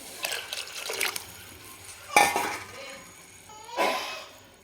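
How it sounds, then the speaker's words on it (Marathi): Hot water splashes and trickles into a cooking pot for mutton curry in a few short bursts, with light clinks of cookware between pours. "दीड ग्लास पाणी टाकते"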